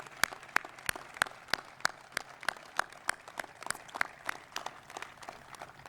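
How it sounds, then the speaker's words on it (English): Sparse applause at an outdoor ribbon-cutting ceremony for a public safety training center, a few distinct claps in a steady rhythm, fairly quiet with background ambience. "Let's give them a round of applause for that."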